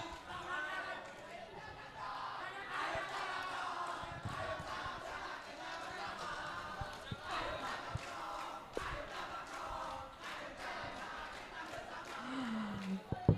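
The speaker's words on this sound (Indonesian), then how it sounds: "yang di belakang ini yel-yelnya luar biasa" A large crowd at a public town-hall event in Aceh chants a rhythmic yell together, loud and sustained, with an amplified voice joining over the chant and scattered shouts near the end.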